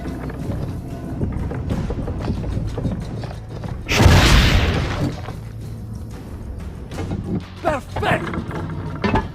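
A cannon fires once in Assassin's Creed Brotherhood, a sudden loud boom with a bright crashing burst near the middle, set against ongoing game ambience and some scattered mechanical clatter.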